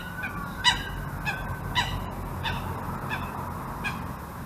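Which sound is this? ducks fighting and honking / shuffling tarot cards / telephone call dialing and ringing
ducks fighting and honking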